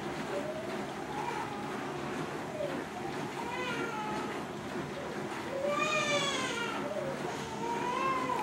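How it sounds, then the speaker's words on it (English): An infant cries in repeated rising and falling wails, somewhat distant in a home kitchen, heard over a steady background hiss with several separate bursts of crying. "If you hear crying, that's my baby"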